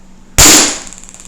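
A Taser fires a fresh dart: one sharp, loud pop lands suddenly and then decays into a rushing, crackling electrical buzz that fades over about a second, with no talk.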